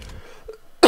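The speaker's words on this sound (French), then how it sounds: "Oui, j'en ai profité pour tousser." A single short cough bursts out near the end, after a near-silent stretch with faint murmuring earlier.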